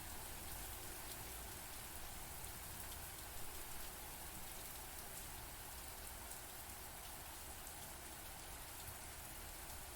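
Rain falls steadily in a Japanese horror video game, a constant, dense hiss of drops on surfaces that stays even and quiet throughout, with no voices.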